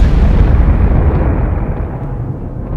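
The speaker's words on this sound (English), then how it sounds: "blasted by a violent explosion, a supernova" A supernova explosion sound effect in a space documentary comes through as a loud, deep, continuous roaring rumble that sounds heavy and fades only slightly.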